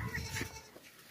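A castrated goat offered for Eid sacrifice bleats in a short, nasal call close to the microphone, with a second fainter bleat trailing off at the end.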